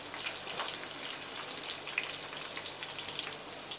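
Onion pieces, added after green chillies, fry in hot oil in a home kitchen, giving a steady, even sizzling hiss with small crackles, moderately loud and close, with no talking.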